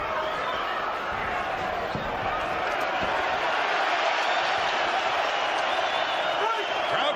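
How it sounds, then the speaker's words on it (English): Boxing arena crowd roaring during the Barrera vs Pacquiao bout, a dense, steady wall of cheering and noise that holds at an even level throughout, with a commentator's voice running underneath. "Crowd comes alive as Barrera, for the moment, gives as good as he takes"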